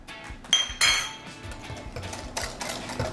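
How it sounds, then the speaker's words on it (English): A spoon stirs sweet and sour meatball sauce ingredients, including cider vinegar, in a bowl. Close, irregular clinks and scrapes against the bowl sound over a quiet background, with no talking. "Now just go ahead and get that all mixed together."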